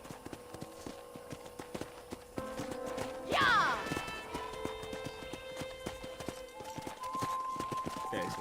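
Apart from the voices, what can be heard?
horse hooves while riding, from the video game Red Dead Redemption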